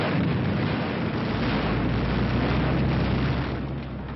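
A tank gun fires, producing a loud, sustained, rumbling blast that fills the whole moment and fades slightly at the end, with no voices.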